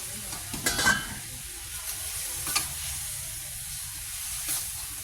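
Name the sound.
stir-frying catfish in chili curry paste in a wok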